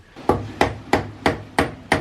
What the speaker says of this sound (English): I had to like use a really big hammer and hammer it down to make like all the sides really